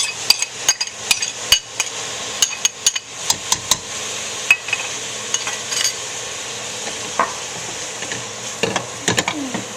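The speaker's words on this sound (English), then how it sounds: "And then you want to toss in your ground meat." Ground meat hits a pan already holding onions and garlic, setting off a low sizzle under a run of sharp, irregular spatula taps and clacks against the pan, close and fairly loud, with no voices.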